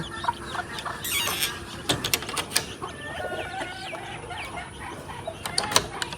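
Young Sonali chicks and other fowl on a poultry farm peep and cluck in a busy, overlapping chorus at close range, with a few louder calls scattered throughout.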